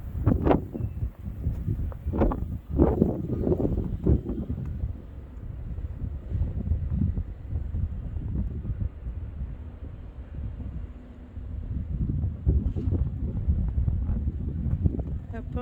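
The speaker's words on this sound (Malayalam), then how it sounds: "കാറ്റ് അതിഭയങ്കരമാണ്." Strong wind during a Long Island blizzard roars and buffets the microphone in uneven gusts, loud and close throughout, with a few faint voices underneath.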